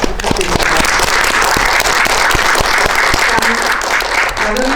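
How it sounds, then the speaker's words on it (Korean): Loud, close applause from a cinema audience at a special film Q&A screening, a dense crackle of many hands with a few sharp individual claps standing out, steady throughout without talk. "박수 부탁드립니다"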